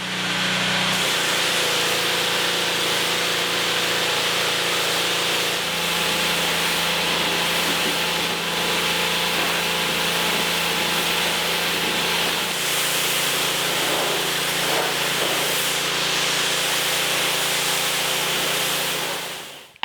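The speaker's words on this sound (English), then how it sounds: "we're gonna rinse this whole thing down" A pressure hose rinses down a car's dirty paint in a steady, loud, continuous spray hiss that shifts slightly in tone as the stream moves, with no talking.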